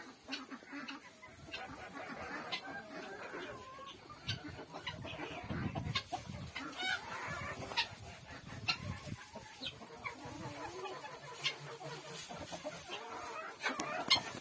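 Bantam and mini Wyandotte chickens cluck and murmur continuously in a coop, a busy close-up flock chatter with occasional louder calls throughout.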